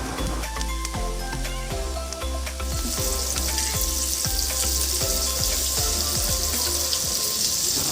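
Spiced elephant foot yam pieces roast in a pan, sizzling steadily up close while a spatula scrapes and stirs in a regular rhythm, the hiss brightening in the second half.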